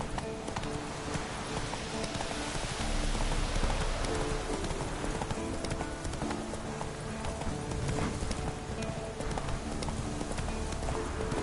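Video game horse Roach trots with rapid, continuous clip-clopping hooves over a rough, gritty ambient bed, loud and close throughout, no talking.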